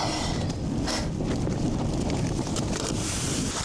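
Strong wind roars across a mountain summit during solo wild camping, buffeting the microphone with a loud, constant rumble and gusting surges, with no talking.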